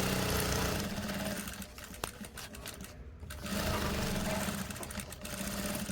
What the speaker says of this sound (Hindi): जहाँ तक हमारी बुकरम है वहाँ तक आप सीधी सिलाई लगाइए